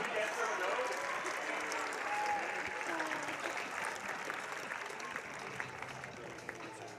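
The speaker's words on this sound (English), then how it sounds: "Round of applause out here for our players throwing down." Crowd applause rings out steadily for pickleball players about to play mixed doubles at a live Nationals pro team event, a dense, sustained clapping across the whole stretch with a voice talking faintly underneath.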